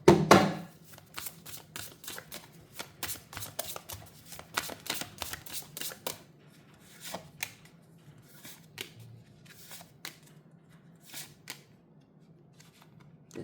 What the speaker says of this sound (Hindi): यहाँ से भी 5 कार्ड्स पिक करेंगे।